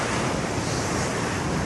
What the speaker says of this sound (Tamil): அந்த கடல் தண்ணி அப்படியே வந்து இந்த நுரை எப்படி இருக்குது பாருங்கள்